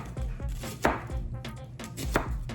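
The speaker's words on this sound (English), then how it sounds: "Right now I'm cutting up an onion with a very hot knife." An onion being chopped on a board with a very hot knife, about a dozen sharp, fairly loud knife strikes in an uneven rhythm, close by with no talking.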